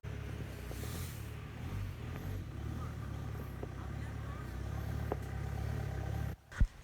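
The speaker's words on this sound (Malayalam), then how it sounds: "ഈ ഒരു വണ്ടിയുടെ എൻജിൻ സൗണ്ടൊക്കെ അടിപൊളി സൗണ്ടാണ് കേട്ടോ" A Mahindra jeep engine idles with a low, steady rumble throughout, close by and fairly quiet, with faint clatter and a couple of bumps near the end.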